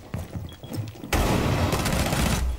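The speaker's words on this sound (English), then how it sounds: "This is a damn like powerful SMG." Rapid SMG gunfire in Rainbow Six Siege bursts in loud and dense after a quieter stretch of game sound, sustaining a heavy continuous volley of shots to the end.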